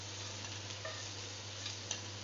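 Sweet potato puli (Bengali ranga alur pithe) fry in hot oil, giving a faint, steady sizzling hiss with a few soft ticks, no voices.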